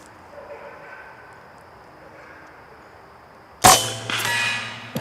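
A .25 caliber Air Force PCP air rifle fires once at a small block target, a single sharp crack near the end followed by a ringing metallic clang from the hit, after a quiet outdoor stretch.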